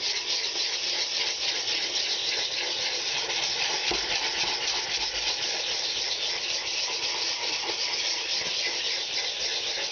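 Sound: sanding fiberglass putty by hand with a sanding block

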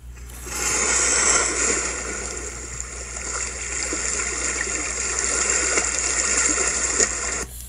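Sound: ocean sounds from an audiobook

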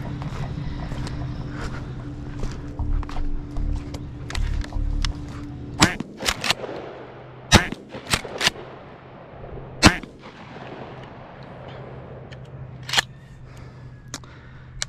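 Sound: gunshots fired at pigeons on a telephone pole

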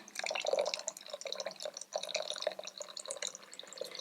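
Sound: water being poured into curd for porridge

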